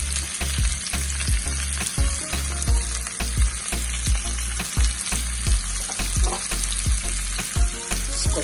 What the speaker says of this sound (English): So this, what I'm doing, I'm sweating these down.